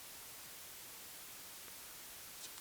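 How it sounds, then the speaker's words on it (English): Steady white noise from the noise oscillator of the Serum 2 software synthesizer, a quiet, even hiss spread across the whole range and holding unchanged throughout. "we're just going to press the white noise like so"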